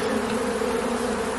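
Bees at an open hive during a beekeeping inspection, a dense steady buzzing hum from many insects close by, continuous and even with no voices.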